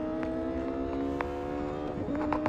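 Porsche Carrera GT racing at Hockenheimring in Real Racing 3, its engine a steady, loud high-pitched drone held at constant revs with occasional brief tonal shifts, dense and continuous throughout.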